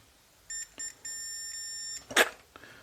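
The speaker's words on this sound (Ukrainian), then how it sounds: "Все, пищить." A series of steady electronic beeps from a tester checking a transistor on a Redok 203I, short pulses then a longer tone, followed by a sharp click or clatter and a faint final beep.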